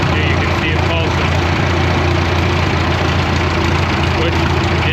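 A crawler engine, old and long unrun, idles steadily with a low pulsing rumble, loud and close throughout, with a fan whirring along.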